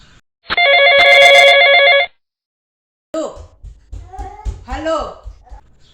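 An electronic telephone ringtone trills steadily for about a second and a half on an outgoing call, then cuts off; after a brief silence someone speaks close by.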